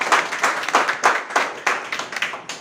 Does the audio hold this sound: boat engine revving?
no